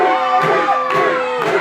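A crowd at a Christian wrestling federation show cheers and yells in a loud, dense wash of voices, swelling in a few surges over a second and a half.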